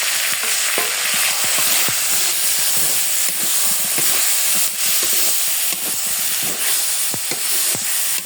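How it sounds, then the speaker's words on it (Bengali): Data shak greens hit a hot pan and fry hard, producing a loud, continuous hiss and sizzle of steam with scattered sharp crackles and stirring knocks. "এখন আমি শাকগুলো ঢেলে দেবো।"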